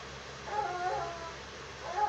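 A dog whimpers softly, letting out a thin high whine and then a second brief whine near the end, in a quiet room.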